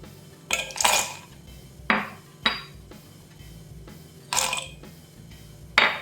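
Cashews, almonds and pistachios crushed in short bursts, several gritty clattering grinds separated by pauses, close and fairly loud with no talking.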